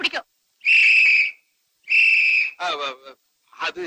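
A person whistles two sustained, piercing notes in a row, with short vocal sounds before, between and after them.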